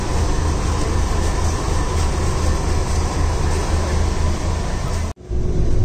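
Metro train running near Mecca, a loud continuous rolling rumble and hiss of the railcars that cuts off abruptly near the end.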